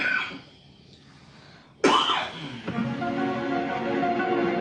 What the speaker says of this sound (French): Tu viens tousser quoi ici?